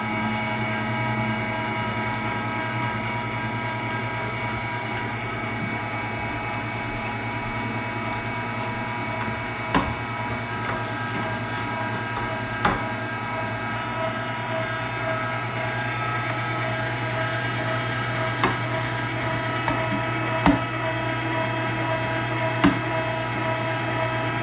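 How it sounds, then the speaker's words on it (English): Meat grinder running through a fine grinding plate on venison mixed with pork fat: a loud, steady mechanical motor hum with periodic sharp clicks and knocks as the meat feeds through, without any talk. "now we're gonna go through and we're gonna grind on our finest grinding plate"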